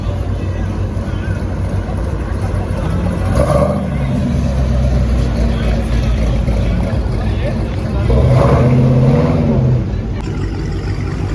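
A supercharged car's engine revs in a loud outdoor crowd at an underground car show, rising in two bursts over steady background noise and voices.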